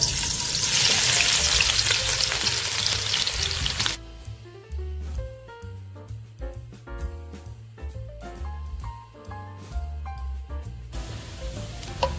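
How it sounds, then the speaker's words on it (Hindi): Garlic and ginger hitting hot ghee, starting with a loud, dense sizzle that then drops into quieter crackling and spitting with rhythmic stirring noises, close up and without speech. "अब हम इसमें ये लहसुन और अदरक डाल देंगे।"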